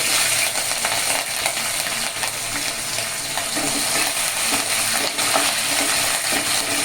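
Onions, green chilies, tomato and ginger fry in hot oil with cashews for semiya upma, giving a steady, dense sizzle with light stirring and scraping in the pan throughout, with no talk.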